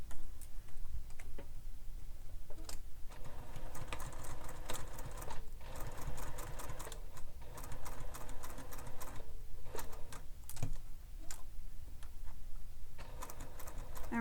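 A sewing machine stitches steadily around a small bag connector, a quiet, close rhythmic ticking whir that runs nearly without pause and carries no voices.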